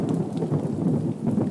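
Heavy rain and rumbling thunder from a rainy-season storm sound effect in a radio advert, a dense, continuous roar of downpour with low rumble and no talking.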